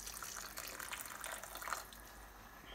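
Hot water pours steadily into a pot of Bangladeshi lamb shatkora curry, a faint, continuous splashing trickle with no talk.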